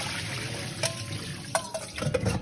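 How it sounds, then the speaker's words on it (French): Cold running water rinsing cooked udon noodles in a kitchen, a steady tap stream with a few splashes and drips near the end. "Ensuite, on va laver à l'eau froide."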